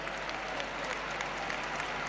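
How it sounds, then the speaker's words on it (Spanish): A basketball arena crowd in Madrid gives a sustained ovation during a Real Madrid versus Partizan Champions Cup game, a dense, steady roar of applause at an even level throughout. "El público así lo entiende y ovación al conjunto de Lolo Sáenz."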